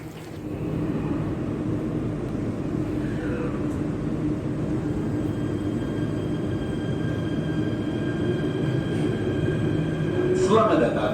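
A Jakarta MRT metro train runs between stations, giving a steady, close, unbroken rumble for the whole stretch, with muffled voices faintly underneath.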